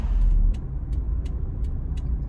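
Honda S2000 Type S exhaust idling, heard from inside the closed car as a low, steady, quiet rumble, with a few faint clicks at regular intervals.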